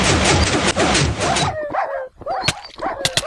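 Dogs in a video game bark and yip in quick bursts, first over a dense, noisy game soundscape, then more sparsely with sharp clicks and yelps.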